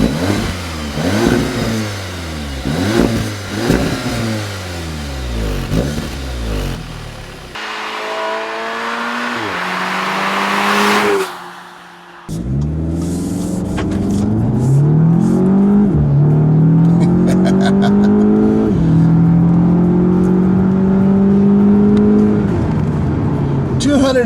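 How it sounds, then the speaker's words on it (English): A 2015 Audi S3 turbocharged four-cylinder engine revs hard through rising, sweeping gear pulls, loud and close, with a brief drop near the middle before climbing again under acceleration. "one of the more drivable, good sounding 4-cylinder engines that I've heard in an Audi in a long time"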